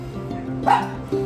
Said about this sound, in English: these dogs, they want their dinner.